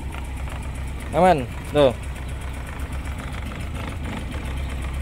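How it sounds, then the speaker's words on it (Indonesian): A 1987 Suzuki Carry minibus engine idles with a steady low rumble and even knock, while someone speaks two short phrases over it. "Mesinnya halus dan nggak ngebul"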